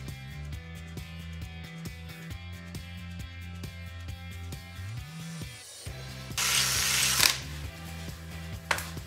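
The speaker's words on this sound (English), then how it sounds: "the old Hitachi getting pretty warm there, drilling through those." Hitachi drill boring half-inch holes through a 1977 Chevy C10 truck frame steel during a C-notch install, a close steady motor whine with repeated bursts, a loud grinding surge in the middle and brief pauses.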